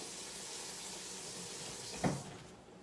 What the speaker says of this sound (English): You heard the sizzle sound?